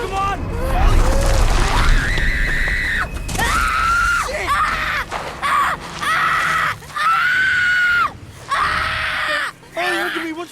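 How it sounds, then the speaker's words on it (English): A boy writhes and screams in a film scene, loud drawn-out cries and whimpers repeating in bursts with short gaps, mixed with mechanical clatter and other voices nearby. "Ollie starts writhing and screaming"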